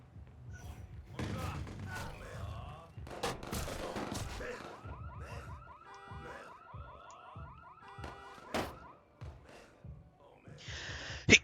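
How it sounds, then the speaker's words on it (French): Video-game gunfire in Watch Dogs 2: bursts of shots and heavy thuds scattered across a chaotic city firefight, with a blaring alarm-like tone through the middle and people talking over the action. "Ah, ils vont pas me tirer dessus quand même."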